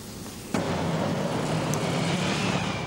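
Road traffic in Niamey on New Year's Eve, a dense, steady roar of passing vehicles that swells suddenly and then holds loud and continuous, with no voices.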